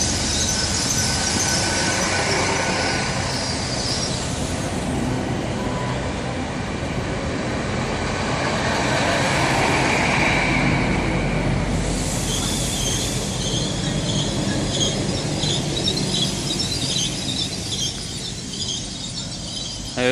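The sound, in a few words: HST high-speed train arriving at Bristol Parkway station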